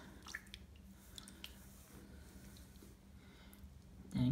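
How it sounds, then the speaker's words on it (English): A foot being put into water and washed gives faint wet squishes and small drips over a quiet background, with a louder splash-like thud at the end. "To get your feet wet, first you put it in the water."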